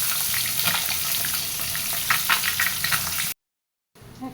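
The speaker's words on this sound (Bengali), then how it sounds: "এখন তেলের মধ্যে একই সাথে ডিম আলু ভেজে নেব।" Eggs and potatoes fry together in hot oil with a steady, close crackling sizzle and brief stirring flurries. A short silent cut follows, then the sizzle returns faintly.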